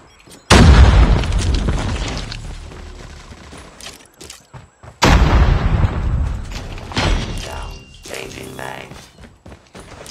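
A grenade in Call of Duty Mobile Search and Destroy bursts with a loud, sudden boom, followed by rumbling debris and gunfire, then a second heavy blast a few seconds later.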